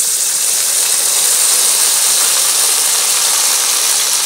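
A loud, steady, close sizzle and hiss fills the whole stretch as a paste of ginger, garlic, cumin and black pepper hits browned onions in a hot pan, with no talk.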